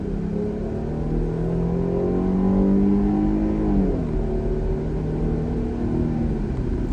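A 2022 Jeep Grand Cherokee L SUV engine revs up steadily under hard acceleration, its pitch climbing for several seconds, then shifting down briefly before rising again, loud and close throughout.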